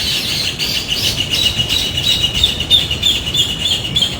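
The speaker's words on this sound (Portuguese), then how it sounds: "Olha os passarinhos" Small birds sing in a dense, continuous chorus of high chirps and tweets, fairly loud, with no talk.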